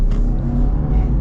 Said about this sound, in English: it definitely has a bit more grunt with that turbocharged engine